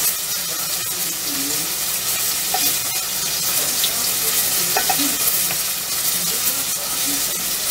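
Tomato sauce is ladled onto a breaded steak parmigiana in a kitchen, a close wet stirring and spooning over a steady sizzling, watery background hiss, with no talking.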